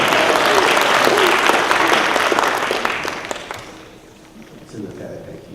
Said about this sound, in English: Can you get a round of applause?